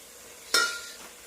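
Chicken pieces sizzle in a pan with turmeric powder as a utensil stirs them, a sudden bright scrape-and-sizzle swell that fades over about half a second against a steady low frying hiss.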